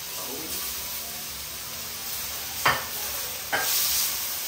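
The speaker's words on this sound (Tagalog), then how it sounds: "gigisa na natin siya ng bawang" Garlic sautéing in a pan gives a steady soft sizzle, broken by two sharp stirring scrapes near the end.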